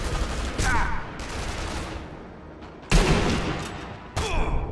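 Gunfire in the video game Sniper Elite V2: three loud, separate shots with sharp onsets spaced about a second or more apart, each trailing off over a steady low background.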